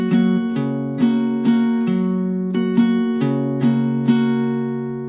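A guitar plays a slow strumming pattern of a song without any other sound. Bass notes alternate with down and up strums at an even, unhurried pace, and each chord rings clearly before the next.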